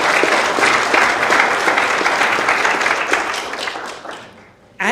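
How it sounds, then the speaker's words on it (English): An audience at a new venture competition claps for the judges: loud, dense, sustained applause that gradually thins and fades near the end before a brief sharp sound cuts in. "I want to give a quick round of applause to our judges who have done a great job"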